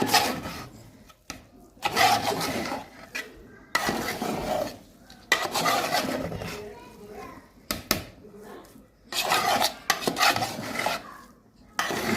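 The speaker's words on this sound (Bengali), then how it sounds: "কিছুক্ষণ পর আবার উঠিয়ে ভালো করে নেড়ে ছেড়ে দিব" A spoon scrapes and stirs rooster chicken pulao in a metal pot, giving repeated bursts of rough scraping and clinking separated by short pauses, with a voice talking nearby.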